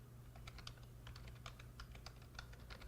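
Fingers typing text on a computer keyboard, a quiet, steady run of light key clicks over a low electrical hum, with no talking.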